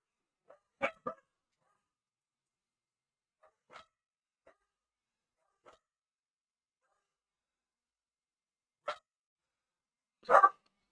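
Dogs bark outside, with scattered single barks separated by long silences, a close cluster near the start and louder barks toward the end.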